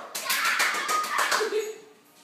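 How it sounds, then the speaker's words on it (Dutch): A young girl's hands clap in a quick run of soft, close pats at home, mixed with an adult's encouraging voice and a brief cheerful vocal sound near the end. "Kom maar klappen."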